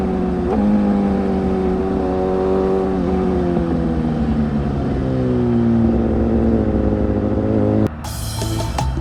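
A Benelli TRK502 motorcycle at full throttle on an open early-morning highway, its engine droning loud and steady with rising and falling pitch through the gears, plus a brief burst of wind noise near the end.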